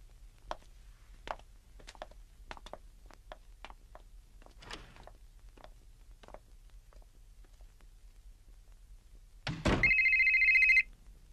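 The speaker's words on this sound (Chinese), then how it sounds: "电话啊！" An electronic telephone rings once, loud and close, near the end of a quiet room scene from a 1994 Hong Kong crime action film, after a series of soft scattered knocks and clicks.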